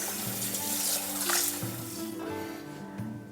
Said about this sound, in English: Then, rinse them a couple of times to remove any impurities.